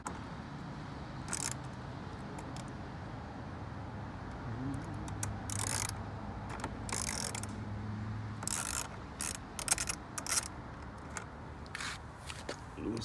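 A wrench loosens the negative terminal on a car battery, giving quiet, scattered ratcheting clicks and metallic scrapes in short bursts over a low, steady background hum.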